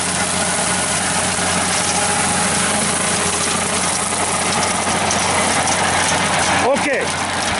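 A tractor drives a 5 ft brush hog through its PTO, with two new blades fitted after repair. It gives a steady, loud mechanical drone with a ratcheting clatter, and voices talk over it near the end.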